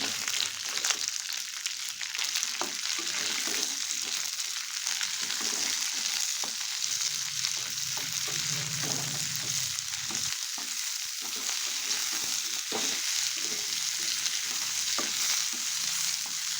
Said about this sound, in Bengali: এবার স্টিমটাকে একটু ভেজে নেবো